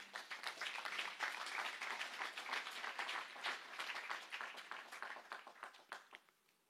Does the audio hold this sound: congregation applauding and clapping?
yes